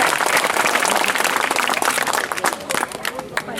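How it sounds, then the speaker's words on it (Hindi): A room full of schoolchildren at a school event applauds loudly, with dense, fast clapping throughout that thins slightly and turns more uneven toward the end, with voices mixed in. "सब लोग जोरदार ताली बजाओ।"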